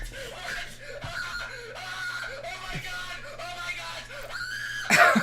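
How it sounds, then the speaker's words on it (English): Shrill, wavering screams tied to Luigi in Nintendo game footage repeat throughout over a steady electrical hum, with a louder burst at the end; voices may mix in. "The screaming syncs up with Luigi."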